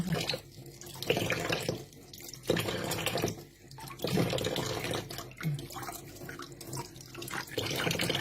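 Leafy vegetables being rinsed leaf by leaf under a running tap, a steady close stream of water splashing and shifting in tone as the leaves move through it, with no talk.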